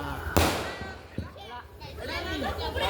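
Firecrackers burst outdoors with one sharp loud crack followed by a few smaller pops, while excited voices shout and chatter throughout.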